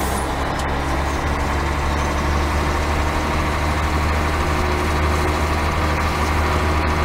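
A tractor engine idles in a logging video game, a steady, loud, low rumble that holds constant throughout without revving or pauses.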